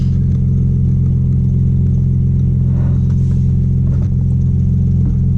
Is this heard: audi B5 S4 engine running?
yes